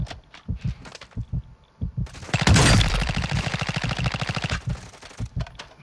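Rapid automatic gunfire in a video game mission set at a mall, with sparse shots early, then a loud sustained burst of fire dense and close, trailing back into separate shots.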